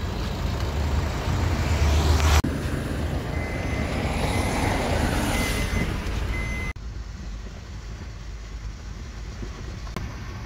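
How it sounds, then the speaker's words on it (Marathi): An airplane passes low overhead near a road. Its broad roar swells across the middle section, between abrupt cuts, with vehicle and traffic noise mixed in. "तो बघा विमान केवढा खालनं चाललाय"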